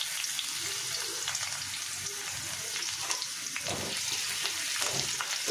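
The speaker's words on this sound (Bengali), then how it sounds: "রসুনটাকে একটু ভাজা ভাজা করে নেব।" Chopped garlic and a bay leaf fry in oil in a pan, making a soft, steady sizzle close by. Faint bubbling pops run through it, with no voices.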